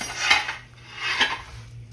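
A lid is lifted off a big heated skillet, giving two distinct metallic clanks about a second apart over a faint low hum.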